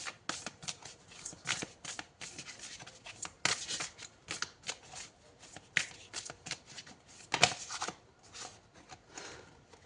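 Tarot cards are shuffled close up in quick, irregular riffling bursts with soft snaps and rustles, fairly faint and with no talking.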